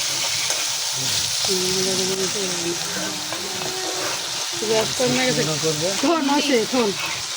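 Dried fish (shutki) being stir-fried in a pan, a steady close sizzle and hiss running throughout, while a voice talks over it.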